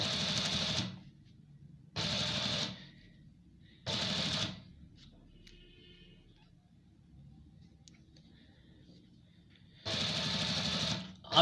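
A sewing machine stitching a two-piece collar runs in four loud bursts of about a second each, separated by quieter pauses with faint handling sounds.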